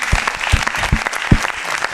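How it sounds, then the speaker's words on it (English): Audience applause with a few heavy, close claps standing out from a steadier patter of clapping, lasting a couple of seconds. "we can all give them a round of applause"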